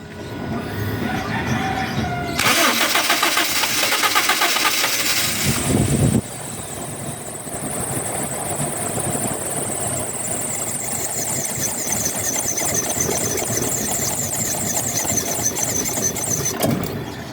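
A car engine with a faulty fuel pump is cranked and catches, then runs for a while with a loud, rough roar. A high whine or squeal rises over the engine noise later on, close to the listener.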